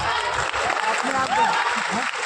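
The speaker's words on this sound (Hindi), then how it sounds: "24 घंटे में ताली बजा दूंगा तुम लोग के लिए।" Audience applause at a Trade IQ trading event in BHU Swatantrata Bhawan, Banaras, a short burst of dense clapping with a voice talking over it.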